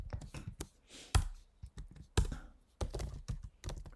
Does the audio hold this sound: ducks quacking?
no